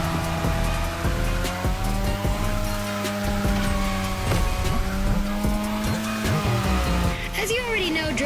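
A car drifts around the drift track in the video game The Crew Motorfest, its engine droning and tires squealing through long slides, loud and continuous with shifting pitch.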